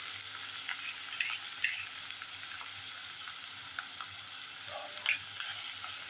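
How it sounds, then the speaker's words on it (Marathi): Crushed garlic sizzles in hot oil in a pan as the base for onionless masoor dal, a steady crackling fry with occasional stirring scrapes and small pops. "ही लसूण छान परतली गेली पाहिजे, तळली गेली पाहिजे"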